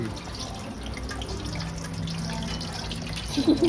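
Fried eggs cooking in a pan give a steady, moderately loud hiss and crackle throughout, with a few brief bubbly pops near the end and no talking.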